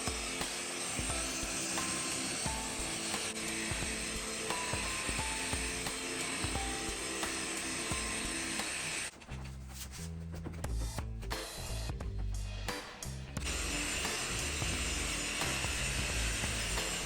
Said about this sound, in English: Now I'm switching out pads to the finishing pad and using the polishing compound